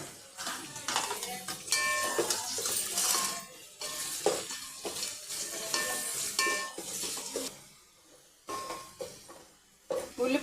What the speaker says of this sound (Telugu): నూనె కాగింది, ఉల్లిపాయ వేస్తుంది. ఉల్లిపాయ గోధుమ కలర్ వచ్చే వరకు వేయించాలి.